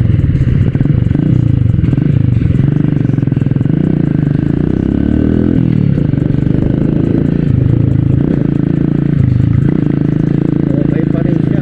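A motorcycle with a 40,000-kilometer clutch running steadily, a loud, close, droning engine hum throughout, with a person talking over it.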